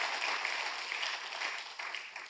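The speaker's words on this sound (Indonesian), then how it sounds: "tepuk tangannya pula yang paling meriah untuk Tuhan" A church congregation at a Sunday service breaks into loud, sustained applause, a dense wash of clapping from many hands that holds steady and fades slightly toward the end.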